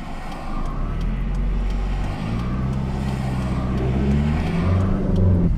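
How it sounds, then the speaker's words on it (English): Steady road traffic rumbles nearby, with a car engine swelling louder as vehicles pass and accelerate; no voices. "School just started, so all this traffic, no fun."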